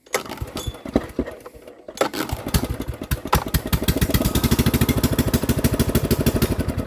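A small pull-start engine sputters with a few uneven pops, cuts out briefly, then fires up and settles into a fast, steady chugging run, close and fairly loud.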